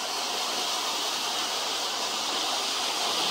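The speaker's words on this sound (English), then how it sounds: "There it is, Boyana Waterfalls." Boyana Waterfalls on Vitosha mountain, a steady broadband roar of rushing, falling water, loud and continuous throughout with no pauses and no voices.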